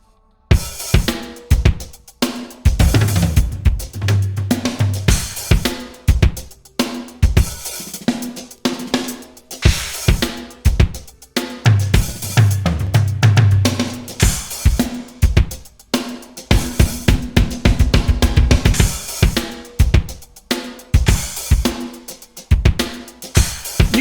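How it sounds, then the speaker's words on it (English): An Audiofier Pragmabeat plays a beat in which each E3 key press fires a different crash or cymbal hit, loud bright washes recurring over a steady looping drum pattern, with no voices. "every time I press E3, a different crash or cymbal sound is triggered"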